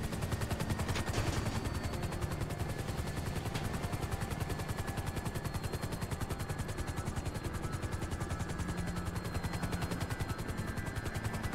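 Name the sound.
gunfire in video game GTA 5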